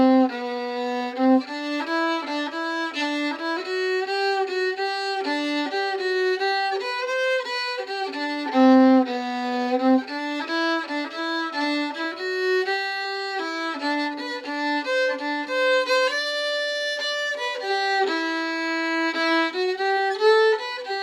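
A solo fiddle plays the A part of an advanced traditional tune with a variation, a brisk run of quick bowed notes with ornaments, steady and close with no speech.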